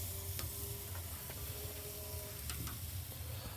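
Steaks sizzle on a grill at night, a steady, soft frying hiss with faint scattered crackles and ticks running throughout, no talking.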